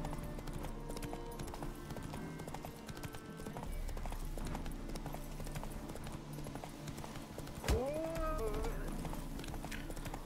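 Horse galloping in the video game The Witcher 3: Wild Hunt, rapid continuous hoofbeats with a brief whinny partway through, under a game soundscape.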